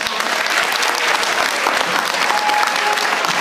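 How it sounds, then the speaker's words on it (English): Sustained applause from a sizable crowd, dense steady clapping throughout with no pauses, fairly loud and close. "So let's give all of them another round of applause."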